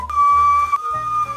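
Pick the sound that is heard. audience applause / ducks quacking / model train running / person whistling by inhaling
person whistling by inhaling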